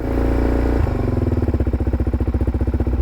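A supermoto motorcycle engine idles loud and close after warm-up. It runs as a steady, fast, even thump with a slight change in pitch just before one second.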